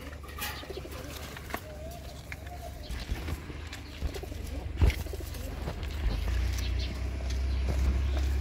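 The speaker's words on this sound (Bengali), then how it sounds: "এই যে দেখুন, একজোড়া লক্ষা কবুতর, খুব কোয়ালিটিফুল লক্ষা।" Pair of lakkha fantail pigeons giving a few soft, brief coos near the start, faint against a low background drone and scattered knocks and rustles.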